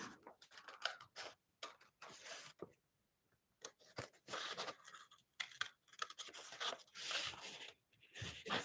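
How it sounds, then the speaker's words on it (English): Scissors snip through folded paper while a Danish snowdrop letter is cut out, a string of short crisp cuts in quick bursts, close and fairly quiet, separated by brief silent pauses. "Just gonna cut, and then it's important that you just cut all the way through the folded paper here"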